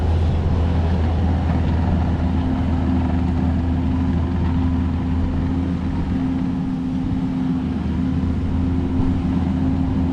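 A large dirt-moving machine's engine runs steadily and loudly for the whole stretch, holding a low, constant drone with no break.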